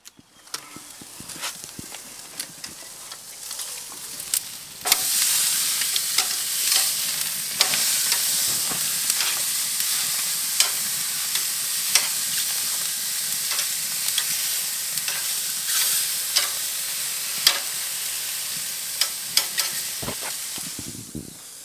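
Food sizzles steadily on a Komodo Kamado grill right after being flipped, a loud, dense frying hiss with scattered crackles and pops, building sharply after a quieter opening and holding through to the end.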